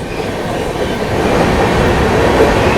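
Heard from aboard the Delhi–Yeshwantpur AC Duronto Express as it overtakes another train, a loud, steady roar of rushing rails and wheel noise that swells slightly toward the end, with no voices.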